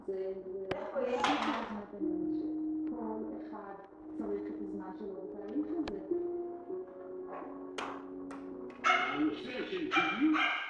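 A dog barks and yips repeatedly in an indoor home setting, close and fairly loud, in irregular bursts with some whimpering, while people talk over it.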